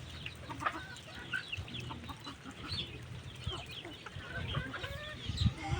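Chickens cluck and murmur nearby while being fed, a busy overlapping chorus of short calls over a steady farmyard background.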